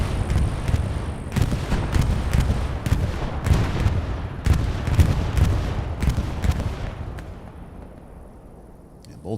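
Repeated heavy explosions from a bombing run in Hell Let Loose thud and rumble in a rapid irregular series, loud and booming, then the barrage fades into a quieter, decaying rumble.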